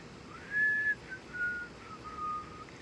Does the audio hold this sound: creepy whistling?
yes